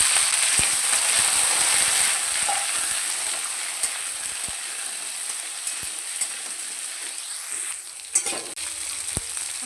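Potatoes and eggplant fry in hot oil with five-spice tempering and a dried chilli for a Bengali pumpkin-greens chorchori, a steady close sizzle with scattered clicks and scrapes of stirring throughout.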